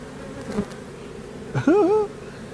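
Bees from a hive built inside a wall give a steady low buzzing drone throughout, with a couple of brief bumps and a short rising whine near the end.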